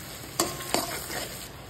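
Spices and Malabar spinach stems sizzle steadily in a pan as a utensil scrapes through them in two quick stirring strokes, close and fairly loud.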